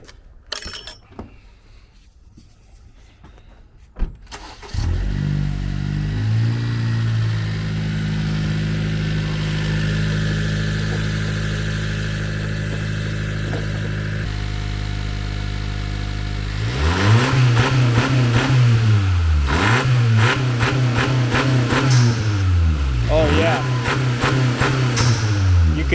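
A 10th-generation Honda Civic engine fitted with a blow-off valve starts up, settles into a steady idle, then revs repeatedly in loud rising-and-falling bursts, each release punctuated by a whooshing vent.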